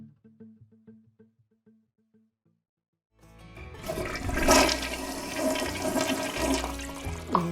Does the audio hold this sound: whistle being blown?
no